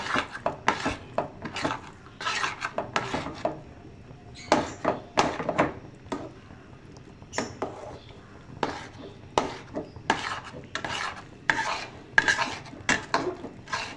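Semolina halwa with ghee being roasted over high heat in a frying pan: a spoon repeatedly scrapes and knocks against the metal in irregular bursts of stirring strokes, close and clear with quiet gaps between.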